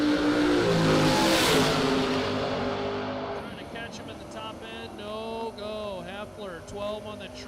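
A drag racing door car roars hard down the strip at a SuperBucks Showdown warmup event, its loud engine rising and then fading into the distance as an announcer talks over the track noise.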